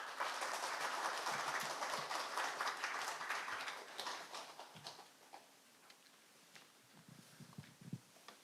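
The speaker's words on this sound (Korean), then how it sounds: "우리 힘찬 박수로 맞이하겠습니다." Quiet audience applause welcoming a performer at an inaugural ceremony, dense clapping for about four seconds that thins into scattered claps and faint room noise.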